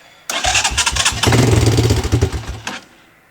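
A 1984 Honda TRX200 ATV engine with the choke on cranks and catches, then runs in a loud, steady, uneven putter close by before cutting out, with no talking.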